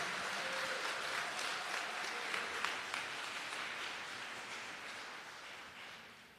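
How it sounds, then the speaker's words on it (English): Audience applauding student award recipients at a college recognition ceremony, a dense, sustained roar of clapping that holds steady and then gently tapers away toward the end. "Audience, may I ask that you give them another round of applause."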